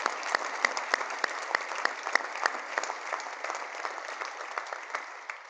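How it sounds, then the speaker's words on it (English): Audience at a community awards celebration gives a round of applause, steady moderately faint clapping with distinct individual claps, no talk. "Let's give everyone a round of applause"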